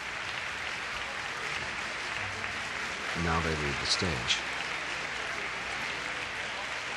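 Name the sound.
concert audience applause after Bartok piano concerto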